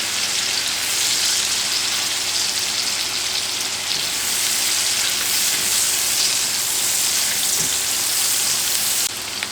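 Sliced kielbasa and onions fry in a pan for a zucchini stir fry, producing a loud, continuous close-up sizzle with faint scraping of stirring and no talking.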